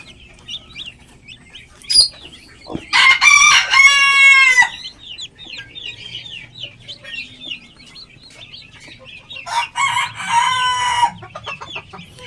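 A US Silkie hen with her chicks in a backyard, nearby soft clucks and a couple of loud bursts of hen calling, with faint chick peeps between.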